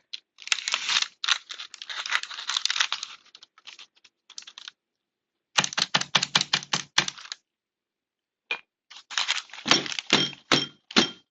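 A baking pan of cheesecake brownie batter is banged repeatedly on a counter to knock out bubbles, sharp clattering bursts of rapid knocks separated by short silences, close and fairly loud with no talking.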